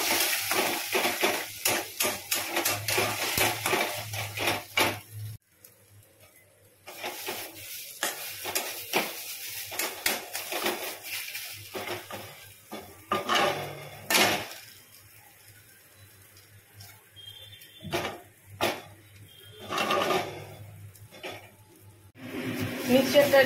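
Bottle gourd peel with turmeric, Kashmiri chilli powder, sugar, salt and mustard oil is stirred in a wok, giving repeated scraping and clattering strokes with a faint sizzle and pauses between bursts.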